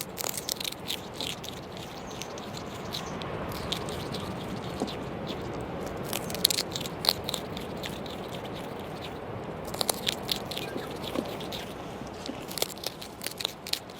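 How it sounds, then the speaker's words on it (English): A kākāpō parrot chews on pieces of kumara, giving repeated soft crunches and wet biting clicks at close range, with brief sharper bursts scattered over a steady low background hiss. "chewing on a bit of food."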